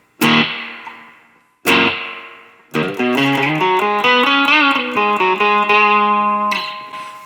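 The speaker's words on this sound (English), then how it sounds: "it's got all the telltales of that old school springy reverb" Electric guitar played through an amp with old-school spring reverb, two hard struck chords ringing out, then a sustained bending melody with a splashy, dripping reverb tail.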